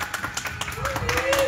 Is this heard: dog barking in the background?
no